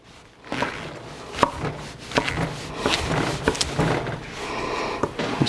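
Black oyster mushrooms are sliced with a knife on a cutting board for a chicken stir-fry. Each cut gives a short tap, repeated at an uneven rhythm, close and fairly clear.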